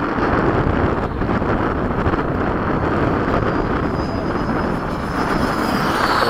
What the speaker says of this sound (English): It's out of nowhere we got this crazy wind.